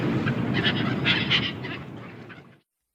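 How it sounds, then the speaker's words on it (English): Harsh seagull calls ring out repeatedly over a steady noisy background, loud and close, then stop abruptly. "Seagulls scream overhead."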